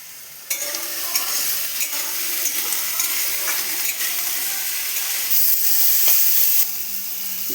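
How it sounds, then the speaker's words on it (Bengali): Potato pieces with salt, turmeric and asafoetida fry and sizzle in a hot pan, a steady close hiss with stirring scrapes throughout and no talking. "এখন দিয়ে দিলাম টুকরো করা আলু, অল্প পরিমাণ মতো লবণ, হলুদ গুঁড়ো দিতে হবে, একটু হিং।"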